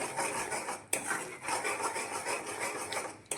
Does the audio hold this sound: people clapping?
no